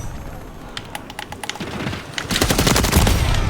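Rapid video-game gunfire from Fortnite or Call of Duty, bursts of automatic shots that build to dense, loud, sustained firing over a rumbling background.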